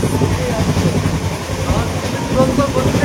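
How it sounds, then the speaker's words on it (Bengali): A passenger train on the Shalimar to Vizag route runs at high speed just after leaving Bhadrak station, giving a steady, loud rolling rumble with faint wheel clatter throughout. "তুরন্ত গতিতে যাচ্ছে ট্রেন"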